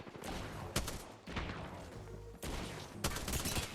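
Gunfire in the battle royale game Apex Legends, with bursts of rapid shots and broadband blasts separated by short gaps over a constant noisy game mix, moderately loud, with no voices.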